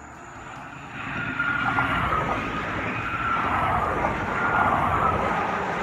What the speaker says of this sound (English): when the cars come by, the wind picks up from the cars